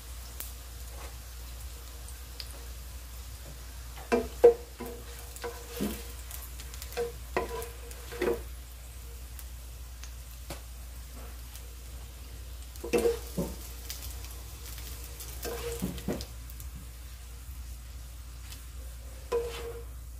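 Eggplant burger patties sizzle and crackle in a frying pan, with scattered pops and brief stirring clatters over a steady low hiss, close and moderately quiet, no voices.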